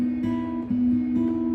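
Acoustic guitar fingerpicking a short pattern, ringing sustained notes with soft plucked attacks, close and alone.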